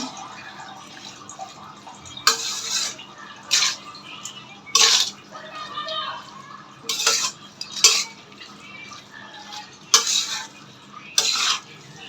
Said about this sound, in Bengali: ফুলকপিটা দিয়ে দিচ্ছি আমি এখন একটু মিশিয়ে নেব